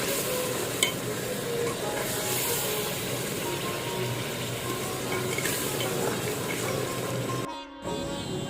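Rice with chicken cubes and potatoes being stirred in a sizzling pot, a steady frying hiss with scraping stir strokes throughout and a brief clatter near the end.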